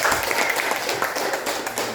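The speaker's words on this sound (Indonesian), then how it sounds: "Tepuk tangan dulu untuk kita semua." Students in a classroom clap together in a short, dense burst of applause lasting about two seconds.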